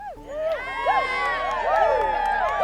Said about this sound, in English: The crowd cheered.